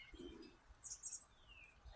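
Small birds chirping faintly outdoors near a creek, with scattered tweets and a thin whistled call in a quiet, peaceful setting.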